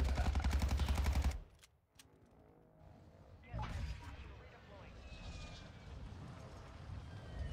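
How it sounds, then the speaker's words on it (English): Gunfire in the Call of Duty Warzone video game, a rapid automatic burst for the first second or so, then quieter scattered distant shots and rumbling game ambience. "These folks shooting back tonight."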